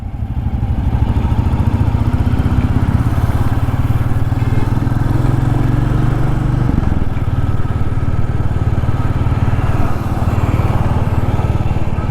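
A Royal Enfield 350 motorcycle engine runs steadily close by, a loud continuous thumping idle with a deep low rumble that holds throughout, with no talking over it.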